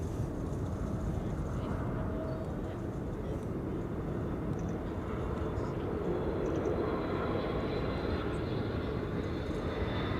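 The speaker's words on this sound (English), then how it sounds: "A321neo landing here in the meantime" An Airbus A321neo airliner lands at Amsterdam Schiphol, its engine roar a steady, broad rumble that holds at an even level throughout, with faint voices now and then beneath it.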